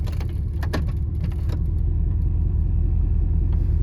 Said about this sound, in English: we've been sitting here still idling